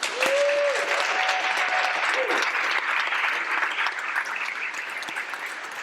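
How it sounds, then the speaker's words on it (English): Loud, sustained applause from a large audience at a scholarship program announcement, dense steady clapping with a brief whistle early on, tapering off slightly toward the end. "can you guys please give them another round of applause?"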